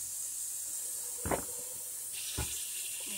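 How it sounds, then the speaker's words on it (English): Tap water fills a Carey canner for canning tomatoes: a steady, faint hiss of running water, broken by two short, louder splashing gushes. "Just a minute while I fill up my canner."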